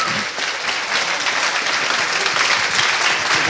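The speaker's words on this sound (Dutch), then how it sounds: "onder luid applaus van de zaal" Loud, sustained applause from a seated crowd in a school hall at a resuscitation-relay survivors' gathering, dense even clapping with no voices standing out.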